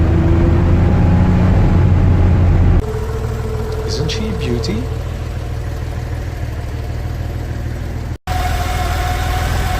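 An air-cooled Porsche 911 Carrera Targa with a 3.2-litre flat-six runs at a steady drone, its tone dropping partway through as the load changes, while someone speaks over it and the sound briefly cuts out near the end.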